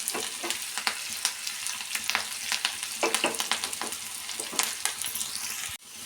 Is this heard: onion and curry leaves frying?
yes